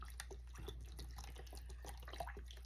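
Chicken broth pours from a carton into a pot, a soft close gurgle and splash with small bubbling drips over a steady low hum, no voices.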